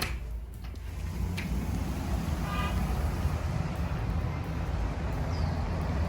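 Street traffic in Lima, heard from a 16th-floor apartment high above the road near the Pacific, forms a constant distant roar, with a short car horn toot cutting through partway.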